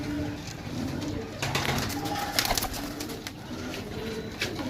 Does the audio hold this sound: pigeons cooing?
yes